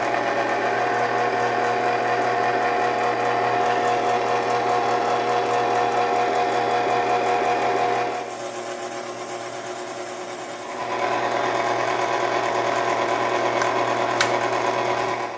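A hand-cranked pasta machine rolls folded fettuccine dough for homemade fettuccine Alfredo, giving a steady whirring, ratcheting mechanical drone that dips briefly midway, then resumes close and loud with no talking.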